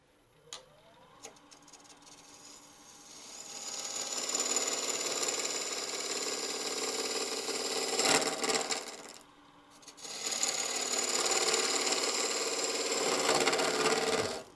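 A 1/2-inch spindle gouge cuts wood spinning on a lathe while a mortar and pestle is turned, a close, sustained scraping hiss that swells and fades with each pass, broken by short pauses, no talking.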